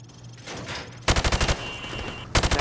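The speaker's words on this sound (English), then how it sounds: "Now, shoot at the targets while firing from the hip." Hip-fired rifle shots at targets on a Call of Duty range: two rapid bursts of loud, close automatic gunfire, each a quick rattle of sharp cracks, with quieter background sound between them.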